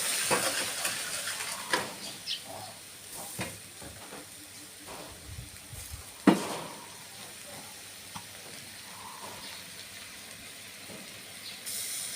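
Ingredients with sugar are stir-fried in a pot for a Thai rad na dish, with soft sizzling, scraping stirs and occasional clanks of utensil on metal, an irregular kitchen clatter at moderate distance.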